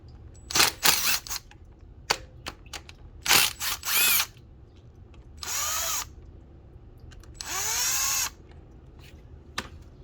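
A power tool whirs in short bursts while removing 10mm bolts from the thermostat housing of a Mercedes-Benz W202, with sharp clicks and clacks between several longer spinning runs close by.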